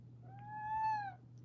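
A single house cat lets out one clear, drawn-out meow, close and moderately loud, rising and then falling, over a low steady hum.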